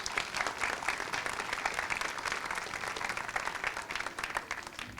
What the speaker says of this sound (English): So give them a round of applause for all of this.